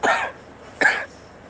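Two sharp, close coughs from a woman with a cold, spaced almost a second apart, each a short harsh burst with quiet in between.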